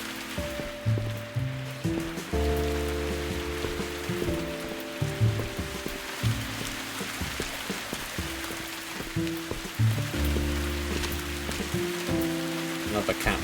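Rain falls outdoors in a steady wet hiss that runs throughout, partly buried under loud music with sustained tones.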